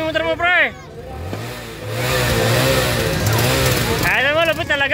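A motorcycle engine revving during a New Year's celebration, a sustained rising and falling roar lasting a few seconds, close and loud, with people shouting excitedly before and after.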